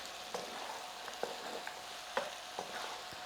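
Chili powder and masala being stirred into chicken frying in a pan, Telangana restaurant-style chicken fry: a steady soft sizzle with several distinct spoon scrapes and clinks spaced irregularly, close and fairly quiet.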